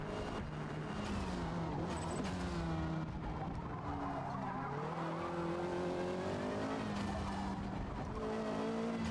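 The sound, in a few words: race car engine and tire squeal in Forza Motorsport video game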